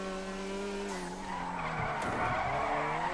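A car in the video game GTA 5 skids with a sustained tire squeal under a droning engine, the screech building and wavering over about three seconds, fairly faint and with no talk.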